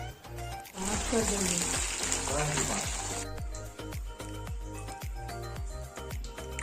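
French fries dropped into hot oil burst into loud, bright sizzling that then settles into a steady fry, with a rhythmic backing track underneath.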